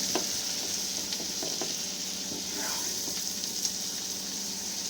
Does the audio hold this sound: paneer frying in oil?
yes